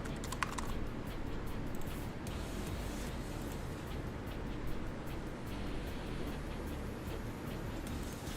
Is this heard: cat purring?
no